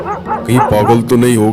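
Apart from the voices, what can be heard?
dogs barking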